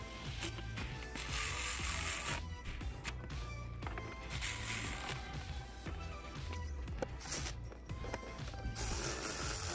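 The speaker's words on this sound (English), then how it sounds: "we're going to run the bolt through. Using my Milwaukee ratchet here." A Milwaukee power ratchet drives a bolt into an intake manifold on a 2019-or-later Chevy/GMC truck, giving a continuous close mechanical whirring and clicking that runs loud and steady throughout, with no talking.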